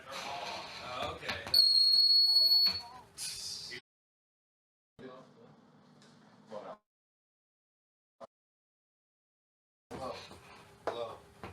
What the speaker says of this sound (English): They make funny noises when you turn them all on and start pushing the buttons.